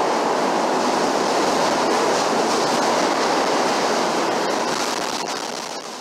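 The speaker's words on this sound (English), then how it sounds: "Why not stay warm and ride the train?" Riding a Chicago L elevated train around the Loop: a loud, steady roar of wheels and carriage noise with faint rail clicks. It eases off slightly at the very end.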